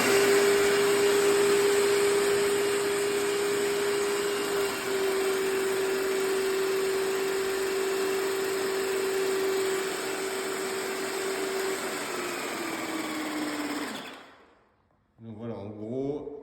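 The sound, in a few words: Wagner 350 M paint station running while purging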